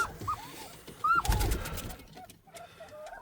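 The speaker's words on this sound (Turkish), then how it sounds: "Burada güvercinlerimiz" Pigeons coo in a winter shelter, with a few soft separate coos and a brief rustling flutter near the middle. The calls are fairly faint against quiet background noise.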